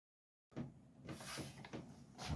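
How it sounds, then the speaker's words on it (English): A closet door moves and knocks in a quiet room, with a few soft bumps and scraping rattles after a moment of silence, faint and close. "This fucking closet door."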